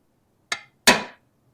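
Two sharp hammer blows land on a workpiece in a quiet room, the second harder and longer-ringing than the first, close and loud with silence around them.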